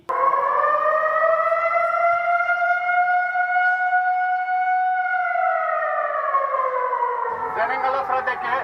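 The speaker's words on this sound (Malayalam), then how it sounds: "തൊണ്ണൂറ് സെക്കൻഡ് നീണ്ടുനിന്ന സൈറൻ മുഴങ്ങിയതോടെ" Civil defence air raid siren sounding during a mock drill in Kochi, a loud sustained wail that holds steady then slowly falls in pitch, with a burst of other noise near the end.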